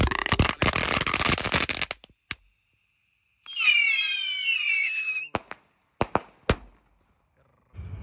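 Roman candle style New Year firecrackers go off in a rapid crackling burst, then a loud whistling screech, followed by several sharp separate bangs with silent gaps between them and a final crackle.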